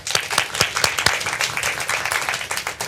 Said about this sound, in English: Let's everybody give themselves a big hand out there.